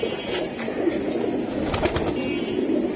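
Soft, steady cooing of a chila pigeon and others at a pigeon seller's, over a constant low background hum, with faint flutter-like bursts mid-way.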